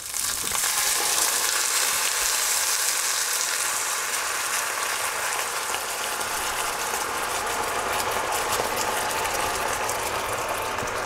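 Amber beer poured into a hot pan over a pork knuckle, giving a steady, loud hissing fizz and sizzle that holds unbroken for several seconds.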